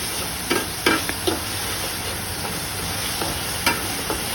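Green chilies frying in a pan with okra and shrimp, a steady close sizzle punctuated by a few sharp spoon taps and scrapes.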